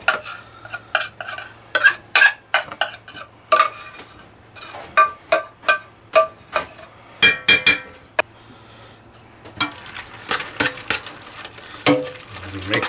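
Cheese sauce stirred into cooked macaroni noodles for a copycat Stouffer's mac and cheese, rhythmic wet scrapes and clinks of a spoon against the pot, close and fairly loud, with no talking.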